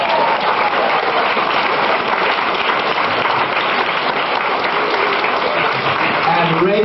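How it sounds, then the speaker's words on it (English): Lecture-hall audience applauding for Gorbachev in 1990 Maryland, a thick, sustained wash of many hands clapping at steady loudness with voices faintly underneath. "How about a round of applause for Gorbachev?"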